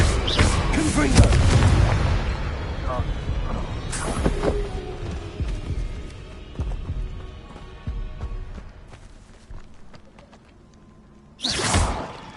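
A Confringo fire blast spell explodes in the Hogwarts Legacy video game with a heavy booming burst and whoosh, followed by rumbling decay and a second sharp blast near the end, alongside other spell effects.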